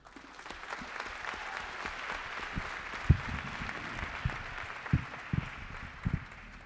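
Audience clapping at a book presentation, a steady wash of applause from a room of people, with a few louder individual claps standing out near the end.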